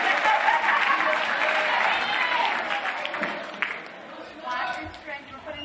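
At a school winter instrumental concert, the audience applauds loudly, then the clapping thins and fades while crowd chatter and a few voices rise beneath it.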